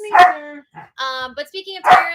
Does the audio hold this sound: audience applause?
no